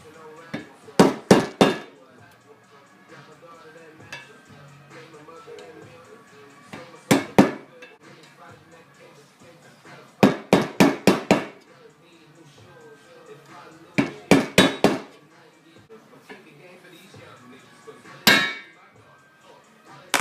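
Bursts of sharp metallic hammer blows, three to five quick strikes at a time, separated by short pauses, loud and close, chipping at a seized swing arm pivot bolt on a Suzuki DT400D motorcycle.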